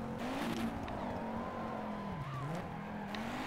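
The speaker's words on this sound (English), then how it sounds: "The downshifting's not real pretty" A race car in the Project Cars racing game drops through the gears, its engine tone dipping and rising again over the tyre noise. The sound is close but fairly faint and goes on steadily for a few seconds.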